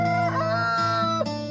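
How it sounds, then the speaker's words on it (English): A rooster on a chicken farm crows loudly and close by, one long sustained harmonic call lasting over a second, with a slight break near the end. "The only time they crow is early in the morning at daybreak."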